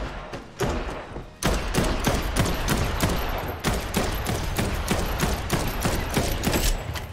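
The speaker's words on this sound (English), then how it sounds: "A bit of gun combat." Rapid gunfire from a rifle in Dead Island 2 co-op play fires in a loud, rhythmic string of sharp shots, each closely following the last after a brief opening pause.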